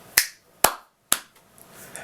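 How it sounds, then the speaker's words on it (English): Three sharp, evenly spaced percussive hits, the snap of fingers, a hand clap and a slap on the lap in a hotel room, each loud and close with a quick decay into near silence between them. "I would have someone snap their fingers, clap their hands, and hit their laps."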